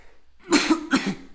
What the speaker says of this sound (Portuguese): Olha, cheguei a tossir.